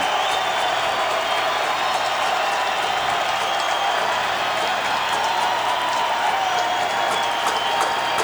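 A college football stadium crowd roars steadily and loudly throughout a home game, with dense applause and cheering that swells on a third down and never lets up.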